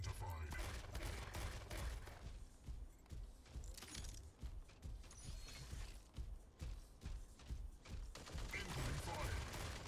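Sustained bursts of gunfire in a team-based video game rattle continuously at moderate volume, with mechanical clicks and creaks mixed in.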